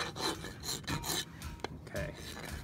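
Rasp beveling the wall of a splay-footed pony's hoof toward the sole edge: several short, rough scraping strokes in uneven rhythm, close and fairly quiet, with no voices.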